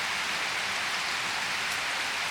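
Steady rain falling over an orchard, a dense even hiss of drops on surfaces that continues without a break and has no voices.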